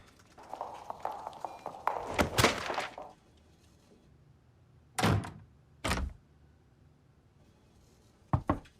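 Series of knocks on a door: a rapid burst of soft raps followed by separated loud thumps, then a final short knock, fairly close, in an otherwise quiet indoor room.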